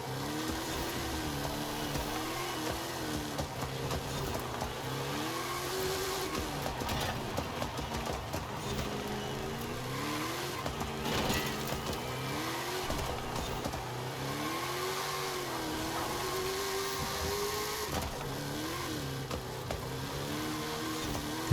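A car in the racing game Forza Horizon 5 drives continuously, its engine rising and falling through repeated revving and gear shifts, steady and fairly loud with no talking.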